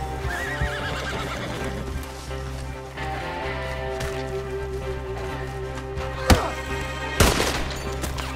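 A horse whinnies and hooves clip-clop at a gallop over a steady music bed in the video game Red Dead Redemption 2, with two sharp gunshot-like cracks near the end.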